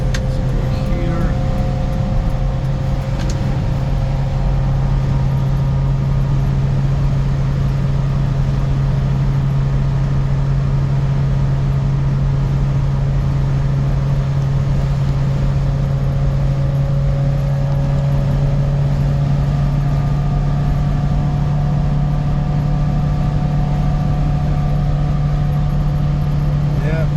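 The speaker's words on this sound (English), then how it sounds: "It's smooth engine on the back, less noise" The rear-mounted engine of a 1999 Subaru Sambar 4x4 kei truck with EFI idles steadily with a constant low hum and faint rattle, running evenly throughout without revving.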